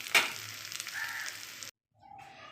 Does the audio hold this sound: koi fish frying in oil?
yes